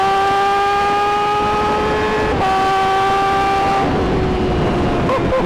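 A Honda Fireblade sportbike with carbon bodywork and newly fitted parts runs its engine, giving a loud, steady droning note rich in harmonics whose pitch sags slightly toward the end.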